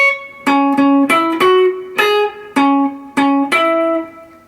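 Electric guitar plays the final measure of a solo, a string of about nine clean picked single notes in an even rhythm, close and alone with no talking.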